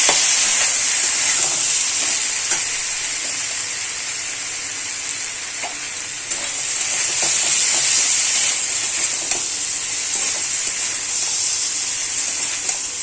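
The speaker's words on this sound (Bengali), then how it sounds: "ভালো করে কষতে থাকবো" Spices and vegetables, including turmeric, chilli powder and salt with winter kohlrabi and prawns, sizzle steadily in a pan as they are sautéed, a continuous close hiss with faint stirring clicks throughout.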